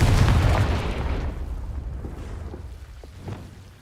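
A loud, close explosion from the Confringo spell in the video game Hogwarts Legacy bursts at once with a heavy boom, then its rumble fades over about three seconds, with a small secondary thump near the end.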